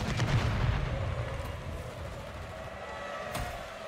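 Explosions from a Swarm killstreak in Call of Duty MW3, a heavy rumbling blast up front fading into a continuous low roar, with a couple of sharp cracks later.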